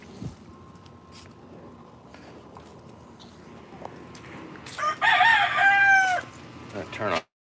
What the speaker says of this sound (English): There's chickens running around like cockroaches.